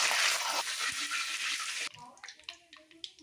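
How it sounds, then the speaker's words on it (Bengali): Dried red chillies and two bay leaves tipped into hot oil, a loud steady sizzle that cuts off abruptly, followed by quieter scraping and clinks of stirring in the pan, close by. "দুটো শুকনো লঙ্কা ছেড়ে দিলাম, তেজপাতা দিলাম দুটো, একটু নেড়ে দিলাম।"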